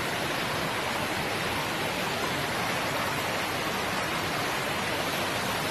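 Steady, dense rush of waterfalls cascading along the Appalachian Trail, a constant broadband roar close by with no pauses or voices.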